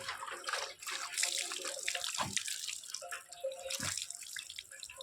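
Water splashes and streams unevenly over a pet dog named Dodo during a bath, with irregular pouring bursts and drips filling the whole short stretch, close and fairly loud.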